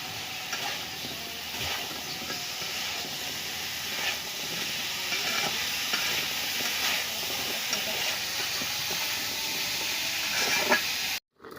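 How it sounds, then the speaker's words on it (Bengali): Drumstick (sajna) vegetable curry with spices sizzles and hisses steadily in a pan while being stirred, a continuous close frying crackle with soft scraping, ending in a brief cutoff. "মশলা কষায় নিছি, এখন সাজনাগুলো দিয়ে দেব, দিয়ে ভালো করে সবজিগুলো কষায় নেব।"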